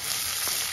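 Onion dropped into hot ghee tempering with cumin, curry leaves and green chillies for Dharwad-style avalakki, giving a steady, close, moderately loud sizzle with a brief swell in the middle and no talk.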